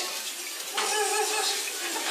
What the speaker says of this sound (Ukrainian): Ось так журчить наш струмочок.